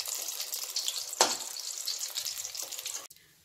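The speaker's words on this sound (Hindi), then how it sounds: "इसे बिल्कुल लो टू मीडियम फ्लेम पे तलना है" A vegetable roll made with atta fries in oil over a low to medium flame, giving a steady, close, soft sizzle that cuts off abruptly near the end.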